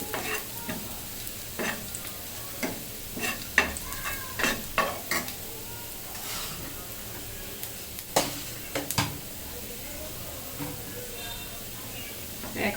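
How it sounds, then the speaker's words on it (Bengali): Chilies fry in a pan for a potato and meat curry, a steady sizzle with scattered scraping stir strokes and clinks of a spatula, moderately close and fairly quiet throughout. "এই যে ভাজা ভাজা হয়েছে আর মরিচটাও কিন্তু একটু হালকা ভাজা হয়েছে"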